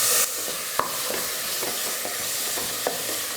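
Onion, garlic, green chilli and tomato sautéing lightly in a little oil, a close continuous sizzle with scattered spatula scrapes and taps against the pan.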